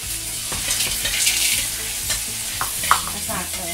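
Onions, peas and carrots hit a hot pan for fried rice, raising a loud steady sizzle with clattering and scraping as they are tossed and stirred.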